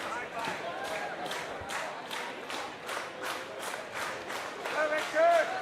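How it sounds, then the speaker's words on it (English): A baseball crowd at a Canada Day game between the Barrie Baycats and London Majors claps in a steady, rhythmic beat to cheer on a left-handed pitcher. A commentator's voice is heard over the clapping. "Crowd was trying to cheer on their left-handed arm to get a punch out to kick off this ball game"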